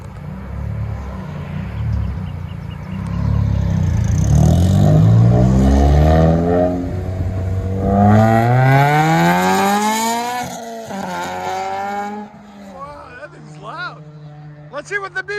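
A 2014 BMW 535i with its turbocharged inline-six and straight-pipe exhaust revs hard, the engine note sweeping up and down in rising, rasping climbs before settling to a steady idle, with voices audible over it.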